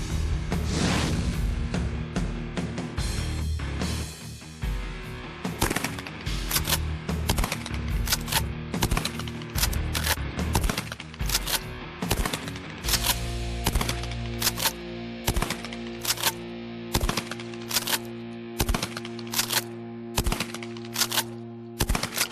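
Rapid gunshots fired from the hip at thrown empty containers ring out as a string of sharp, loud cracks, some in quick bursts and others spaced, with no talking.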